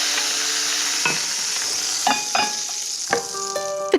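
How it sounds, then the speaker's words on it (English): Crespelle crepes frying in a pan for baked manicotti, a steady close sizzle broken by several sharp metallic scrapes and clinks of a utensil against the pan, with no talk. "I will continue to flip and fry and finish them"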